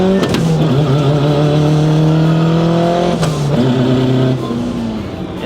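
Turbocharged Mitsubishi Evo with an upgraded bigger turbo pulling hard through the gears on partial boost, a loud, steady engine note climbing in pitch with two brief dips at the shifts before it tails off slightly.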